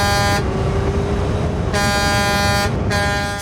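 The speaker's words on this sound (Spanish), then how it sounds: "el camión hace sonar su bocina con fuerza en señal de descontento" A truck's air horn blares in long, loud blasts over a rumbling engine, with three sustained honks broken by brief gaps, harsh and close.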